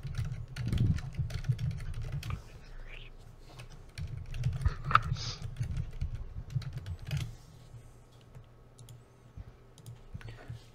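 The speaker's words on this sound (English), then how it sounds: "Typing." Rapid, irregular clicks of a computer keyboard being typed on during a Demonwatch tabletop game session, close and fairly quiet over a low steady hum, with brief pauses between bursts.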